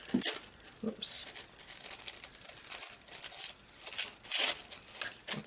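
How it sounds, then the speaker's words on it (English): Paper being torn and crinkled by hand while making a collage, several short rips and rustles close up, with a brief spoken exclamation partway through. "And I might just tear this bit more."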